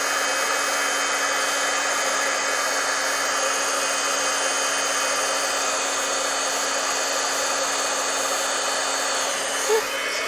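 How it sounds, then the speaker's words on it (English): A heat tool blows hot air to set embossing powder on a handmade Stampin' Up Valentine card, giving a steady close whirring drone with a high whine that runs unchanged for the whole stretch. "I'm going to set it with the heat tool"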